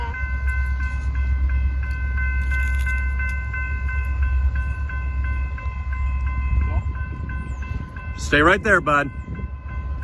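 A train rumbles past a level crossing in Tulsa, Oklahoma while crossing bells ring steadily, and a loud horn blast sounds near the end. Someone speaks briefly.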